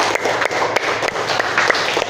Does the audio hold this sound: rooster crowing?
no